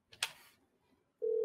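A telephone on an incoming 3CX test call gives a short burst of noise, then a single steady ring tone begins and holds to the end.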